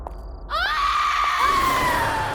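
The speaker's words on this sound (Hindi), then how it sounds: "ये किसकी चीख है?" A drawn-out scream in a horror drama, rising sharply then wavering and slowly falling, loud and close, heard alone after a brief quiet start.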